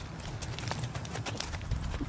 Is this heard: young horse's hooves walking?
yes